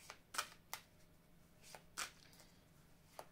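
Lotus-eye oracle cards being shuffled, a few quiet close riffles and soft slaps spaced irregularly against a faint background hum.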